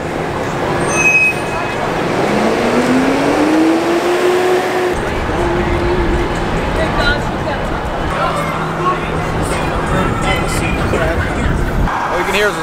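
Busy Times Square street traffic in New York City rumbles with passing cars and buses, and a rising engine tone sweeps by close at hand under steady city noise, while people talk nearby.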